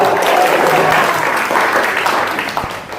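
A church congregation claps loudly and continuously during an evening worship service, the applause fading slightly toward the end.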